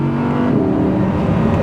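The mid-mounted 5.2-litre V10 of an Audi R8 V10 Performance runs from behind the cabin with a loud, steady low drone and a slight rise in pitch.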